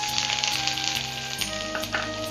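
Chopped garlic sizzles hard in hot oil with whole spices such as cardamom and cinnamon, a loud, dense crackle close up. There are a few brief stirring knocks.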